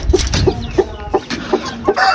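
An Aseel hen with her day-old chicks on a rooftop setup, clucking in a steady rhythm of about six close, loud, low clucks, with thin chick peeps faintly around them.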